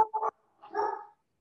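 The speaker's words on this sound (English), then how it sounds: "There's somebody that just drove up, so my dog's barking." A dog barks at a car that has just driven up, giving two muffled barks separated by a short pause, heard from a moderate distance against quiet.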